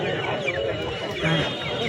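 A rooster calls amid a busy, noisy crowd at a weekly poultry market in Anantapur, with people talking loudly all around it.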